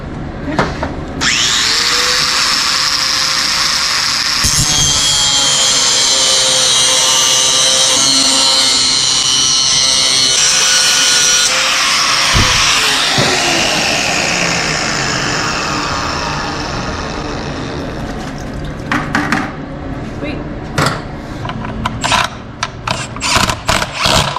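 An angle grinder cleans up metal cuts and welds on fuse box brackets during an LS swap, a loud sustained whine that shifts pitch as it bites, then winds down into scattered clanks and knocks.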